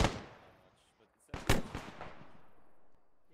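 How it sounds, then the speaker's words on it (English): A grenade blasts in a trench-fighting military video game: a sharp opening crack, then a second heavier boom after a short gap, each rolling off into a fading rumble. "I saw that grenade"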